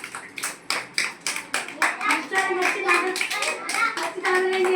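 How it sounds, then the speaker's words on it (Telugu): Children clap their hands together in a lively preschool setting, a fast run of sharp, close claps that grows steadier and denser. Young voices chatter over the clapping. "క్లాప్స్ కొడదామా? అంటే క్లాప్స్ కొట్టి"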